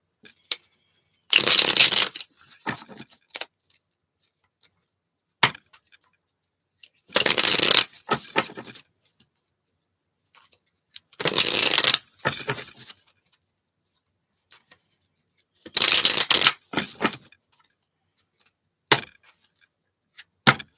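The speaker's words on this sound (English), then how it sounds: "Let me just shuffle these up here a little bit more." Tarot cards being shuffled at a live reading, four loud riffling bursts about every five seconds, each followed by a few light taps and clicks, with quiet gaps between.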